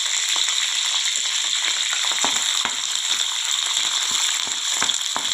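A tempering of dry red chillies frying in hot oil for a peanut chutney hisses close and steady, with a continuous bright sizzle and scattered sharp crackling pops throughout.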